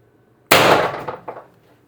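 A single sharp shot from an IntruBuster Gen 2 air gun, a loud crack with a short clattering tail and a smaller second knock just after, otherwise quiet.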